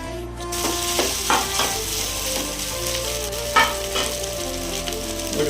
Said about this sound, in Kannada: ಅದನ್ನ ಬಾಣಲೆಲ್ಲ ಹಾಕ್ಬಿಟ್ಟು ಚೆನ್ನಾಗಿ ಮಿಕ್ಸ್ ಮಾಡ್ತಿದ್ದೀನಿ ಇವಾಗ